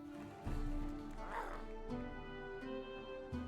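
A cartoon dog swordsman unit in the Inkulinati strategy game gives a short bark and whimpering yip over a busy layer of game music, a close, brief animal call.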